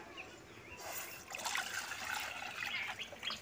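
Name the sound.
milk being poured into a kadai pan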